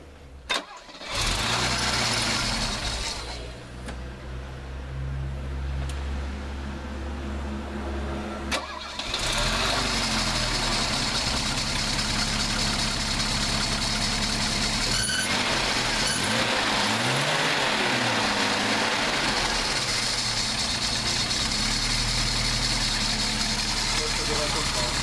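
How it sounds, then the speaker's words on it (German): A Mercedes R107 with a converted gas system cranks and fires up on petrol, then settles into a loud, steady idle heard from close by. A brief blip follows, and voices talk over the engine. "Ich starte mal erstmal auf Benzin."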